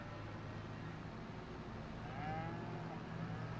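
Cows in the Farming Simulator 25 game, on a farm in Ladyhill, Ireland, give a faint moo or two, quiet and a little distant, over a steady low engine hum.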